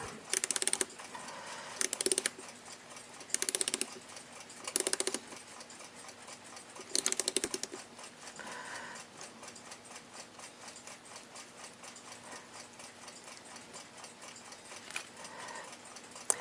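A Westclox Baby Ben Deluxe alarm clock movement ticks quietly and evenly on a bench, a steady mechanical tick broken by a few louder bursts of handling noise.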